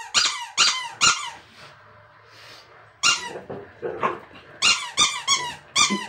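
A pit bull growling and barking in short bursts, loud and close, with a quieter whimpering growl in a lull between volleys of barks.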